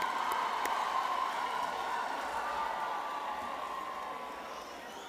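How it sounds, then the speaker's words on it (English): Graduation ceremony crowd cheering, whistling and applauding, a dense steady roar of clapping and shouts that slowly fades over several seconds in a large hall. "Let's give our graduates a round of applause."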